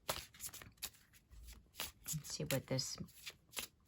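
A Shadow Work Oracle card deck being shuffled, soft rapid riffling and papery flicks under a person's continuous talking, quiet and close.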